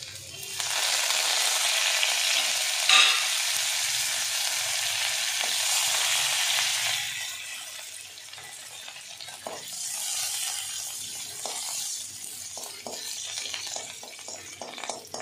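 Crushed ginger and curry leaves fry in hot oil with mustard seeds, a loud bright sizzle that crackles and pops, easing somewhat halfway through as a spoon stirs and clinks against the pan.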